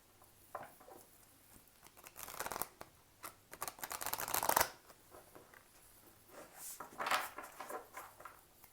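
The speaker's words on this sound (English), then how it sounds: "I'll just shuffle the cards a few times." Tarot cards being shuffled by hand several times, a run of soft riffling and papery flutter bursts with short pauses between, close and fairly quiet with no talking.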